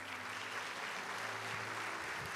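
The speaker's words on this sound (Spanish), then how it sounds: "Denle un aplauso a Él." A church congregation claps together, a faint but steady wash of applause lasting throughout, heard from some distance with a low hum underneath.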